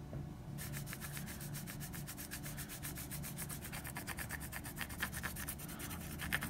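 A crayon rubbed over cardstock laid on the raised side of an embossing folder, making a rapid, even scratchy rasp of many close strokes that stays fairly soft throughout, with no voices.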